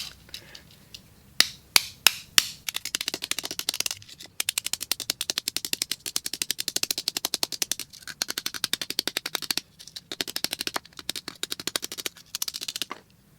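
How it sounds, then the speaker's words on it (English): A hammer rapidly strikes a toy Mazda RX-7 model car over and over, with a few single sharp knocks followed by long bursts of quick clattering blows separated by brief pauses. "So I'm going to beat them all up with a hammer to make them look like they've already been crushed a little bit"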